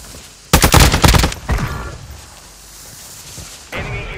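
Enemy gunfire in Call of Duty Warzone 2: a loud, rapid burst of shots opens the moment, followed by a shorter second burst, a stretch of quieter ambience, and then another brief shot near the end.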